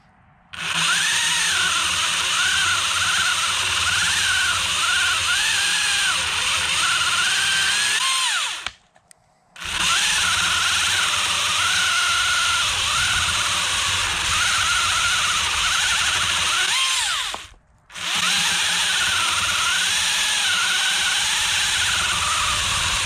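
A Husqvarna battery pole saw whines at a high steady pitch, close and loud, with two brief cutoffs where it stops and starts again; no talking.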